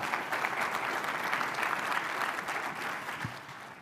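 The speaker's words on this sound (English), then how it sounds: "So let's give them a round of applause." An audience at a community culture event gives a round of applause, dense sustained clapping throughout, fairly even in level with no speech over it.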